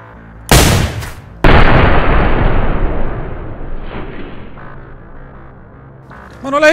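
In the video game DayZ, a single sharp gunshot cracks out, followed by a second heavy blast that rolls into a long, decaying echo, with a faint sound stirring near the end.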